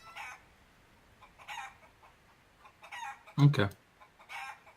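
Chickens in a pen cluck in short bursts spaced through the clip, and one louder squawk stands out near the end. A person briefly says a single word.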